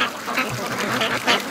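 Close free range ducks quack in a quick string of several loud calls by a creek with ice.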